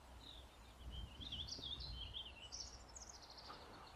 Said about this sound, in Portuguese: apenas o farfalhar das plantas e o canto dos pássaros